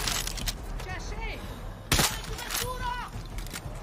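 Sharp gunfire cracks from the video game Far Cry 6, one loud burst standing out among scattered shots, with game sounds and a voice in the background.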